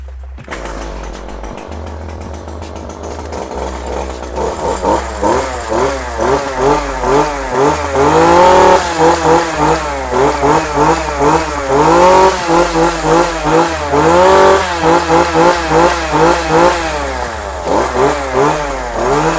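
A Kioritz REM2620 26cc brush cutter engine catches and starts, then runs with a series of loud, rising and falling revs close by. It alternates between idle and repeated throttle bursts, with no talking.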